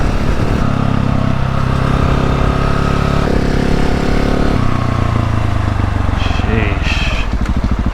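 A Husqvarna 701 motorcycle engine hums loud and steady while riding, shifting pitch a few times, with wind noise throughout and someone talking over it.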